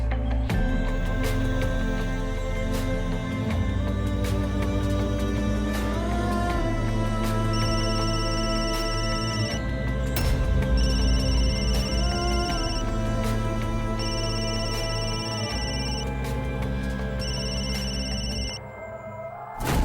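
A phone ringtone plays for about twenty seconds, a repeating electronic melody of bright beeping tones over a musical backing, loud and continuous.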